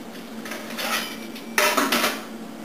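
Ravioli pasta and sauce are dished onto a serving platter with a couple of close clinks and scrapes of a utensil against the dish, with no talk.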